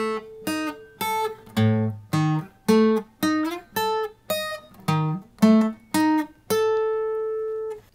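Guitar plays a series of tritone intervals, paired notes struck one after another in a steady rhythm, sounding tense and dissonant, with a final chord left ringing out.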